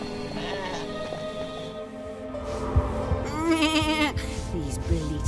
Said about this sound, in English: These bleating clouds will pay for turning me into a sheep.